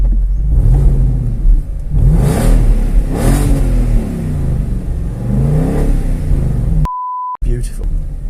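An Audi A8's engine runs with a deep steady rumble and rises and falls through several revs. Excited voices sound over it, and a brief electronic beep cuts in near the end.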